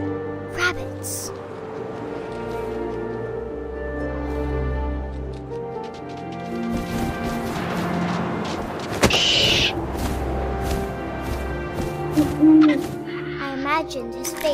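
An owl hoots in the video game What Remains of Edith Finch, a soft repeated call rising out of a windy ambient bed with music, loud near the middle of the scene.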